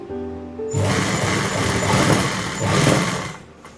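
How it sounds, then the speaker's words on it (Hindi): A sewing machine runs a straight stitch through trouser pocket fabric, starting after a short quiet moment with a steady, close, whirring mechanical chatter that lasts about three seconds before easing off. "रखने के बाद 1/2 इंच कपड़ा लेते हुए सीधी सिलाई लगाएंगे।"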